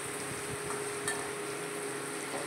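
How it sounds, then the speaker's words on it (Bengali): Jackfruit seeds frying in oil seasoned with salt and sugar give a soft, steady sizzle, faint and continuous with a brief stir-like clink, without voices. "কাঁঠাল দানাটা মানে নুন মিষ্টি দেওয়া তেলটাতে আমি ভেজে নিচ্ছি।"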